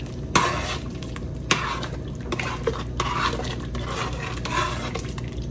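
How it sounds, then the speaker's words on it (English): A spoon stirs chicken and dumplings broth in a pot, making repeated scraping clinks against the pot with soft liquid swishing and a low simmer underneath, steady and close. "I'm going to give it a good stir"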